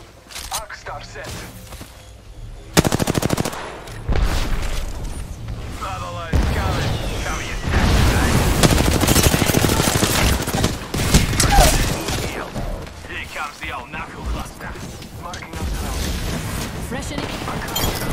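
Repeated automatic gunfire bursts from an Apex Legends firefight, loud and close, with short crackling volleys and booms across most of the stretch, interrupted by brief pauses and mixed with in-game voice callouts.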